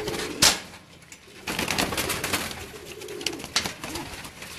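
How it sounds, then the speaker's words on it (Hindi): Pigeons cooing and fluttering nearby with soft bird calls, a sharp flap or clatter early on, and steady rustling activity throughout. "ये असद भाई हमें कबूतरों का अपने मसलन शौक भी करवाएंगे"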